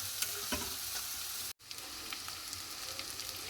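Potato and turmeric mixture sautéing in oil in a pan, a steady sizzle with occasional stirring scrapes and a brief cut in the middle.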